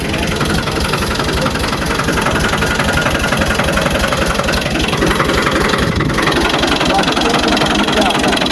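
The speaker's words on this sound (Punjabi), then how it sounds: "ਹੁਣ ਟਰੈਕਟਰ ਕੱਢ ਲਿਆ ਜੇ ਤੁਹਾਡੇ ਸਾਹਮਣੇ ਧੱਕਾ ਸਟਾਰਟ ਹੀ ਹੈ।" A push-started tractor engine chugs loudly and steadily with a rough, knocking idle, with people talking over it.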